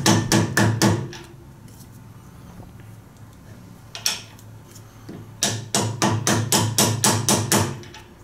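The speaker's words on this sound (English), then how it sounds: "Basically I tap the bearing on the ball screw." A socket taps a bearing onto a ball screw during a CNC router build, sharp metallic hammer strikes in a quick burst, a single blow mid-way, then another rapid run of evenly spaced taps.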